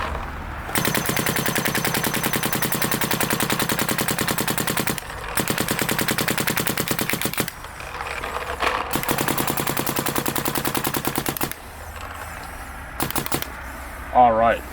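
Planet Eclipse Geo R5 paintball marker fired in long rapid bursts, a fast steady stream of sharp pops with brief pauses between strings, loud and close.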